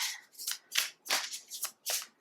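Moonology oracle cards being shuffled by hand, a quick run of crisp riffling bursts in a steady rhythm, close and fairly loud, with no talking.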